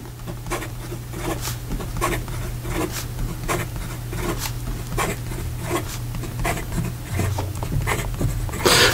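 A TWSBI GO fountain pen with a steel nib writes quickly on paper, giving a steady run of close, soft scratchy strokes in quick rhythmic bursts, heard alone without speech.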